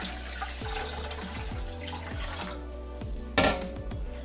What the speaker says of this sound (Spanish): Vamos a agregar 6 litros de agua aproximadamente para mi olla.